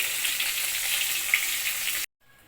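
Rui fish head fries in hot oil in a wok, giving a steady close sizzle that stops abruptly near the end.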